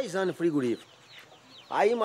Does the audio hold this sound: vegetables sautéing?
no